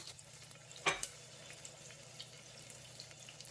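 Onions browned with ginger and garlic paste sizzle softly in a pan, a faint continuous frying hiss, broken once by a brief louder clatter as the paste is added or stirred in.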